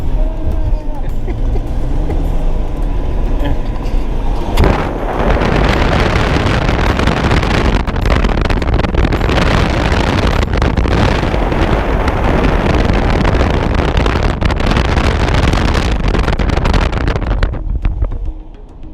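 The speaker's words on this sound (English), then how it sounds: "Alright, we're going home, and Tommy's driving like a maniac." Lexus IS300 driving fast on rough back roads during a Gambler 500 rally, a loud continuous roar of wind buffeting and road rumble from inside, with speech heard early on.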